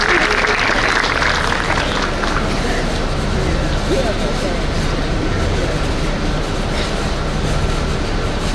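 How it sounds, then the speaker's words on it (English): An audience at a school's grand opening ceremony applauds loudly, a thick continuous wash of clapping and crowd noise that fills the whole stretch at a constant level. "please join us in welcoming the inspiring trio with the loudest round of applause"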